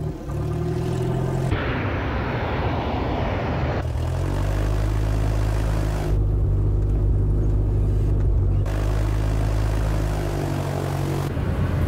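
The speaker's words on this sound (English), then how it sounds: "You've got a lot of airplane taxiing out." Steady low engine rumble with a droning hum, like aircraft rolling along the ground nearby, continuous and fairly loud throughout.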